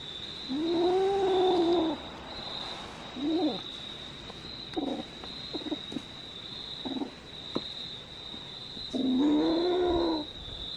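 Cats meowing with drawn-out caterwauling yowls at the start and end, shorter mews and soft clicks in between, close by, with a steady high electronic whine running underneath.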